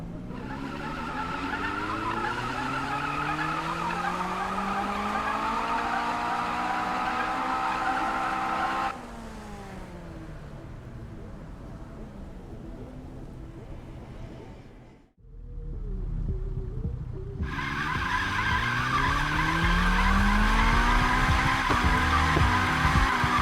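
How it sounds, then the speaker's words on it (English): Need for Speed game cars, including Payback, with loud revving engines climbing through gears and long tire squeals and skids, a brief near-silent gap midway before the engines roar back; no voices. "As for the engine sounds, let's just hear them."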